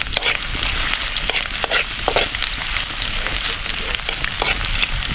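Garlic sizzles steadily in a hot pan of oil while a few light stirring scrapes cut through the crackle, close and continuous with no talking.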